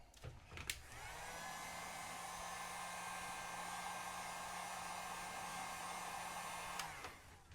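A heat gun whirs on with a click and blows hot air steadily at an iPhone 6 charge port, a constant even hiss-and-whine for several seconds before clicking off, with no voices.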